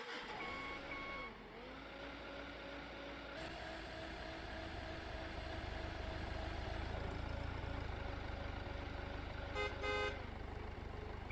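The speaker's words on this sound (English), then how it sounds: "And here comes our truck" A delivery truck arrives in the Beer Factory video game, with a steady engine rumble, a rising and falling engine tone, and a burst of rapid reversing beeps near the end, all fairly quiet with no talk.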